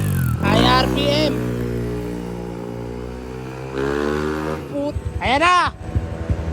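A super-stock motorcycle engine revs hard at high RPM during a test run, rising and falling in loud whining sweeps, with a sharp burst near the end.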